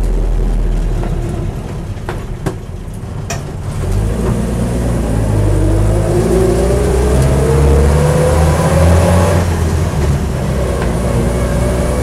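A Land Rover Series IIa drives along a road, its engine pulling and rising steadily in pitch as it accelerates, loud and close from inside the vehicle, with no talking.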